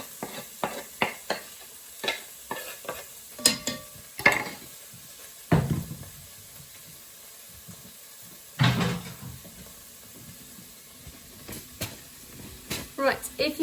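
Minced garlic scraped into a pan of frying onion and stirred, with soft sizzling under a run of sharp utensil knocks and clatters, several louder clanks spread through the stretch.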